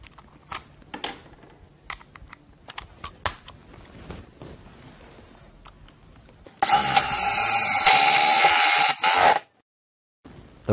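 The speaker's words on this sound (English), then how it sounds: "Speed number two is typically used for metal drilling applications." A few seconds of scattered clicks and handling noise, then a Bosch GDR 12V-110 cordless impact driver, on speed two, drills metal, whirring steadily and loudly at high speed for about three seconds before cutting off.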